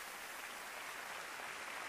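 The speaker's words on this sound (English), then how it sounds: "The clapping!" Sustained applause from a crowd in an anime episode, a dense, steady wash of many hands clapping at even loudness throughout, fairly faint, with no talking.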